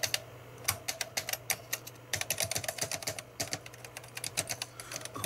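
Keys pressed on a ZX Spectrum 128 +2 keyboard clatter in quick irregular bursts of close, sharp clicks, with a steady low hum underneath and no talking.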